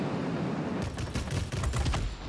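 Rapid bursts of aircraft gunfire in the World of Warplanes video game, from a Tier X Hawker Hunter jet. The fire comes loud and dense as a sustained rattling fusillade over a steady engine drone, with no talk over it.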